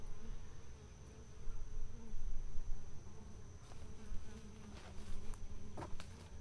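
Honey bees hum steadily around hives at a woodland outyard, a close, swelling drone with individual insects buzzing past, alongside a few faint taps and ticks.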